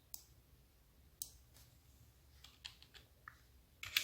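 Light clicks and taps from a computer keyboard during an online search, sparse and irregular, faint and close, ending in a quick burst of keystrokes.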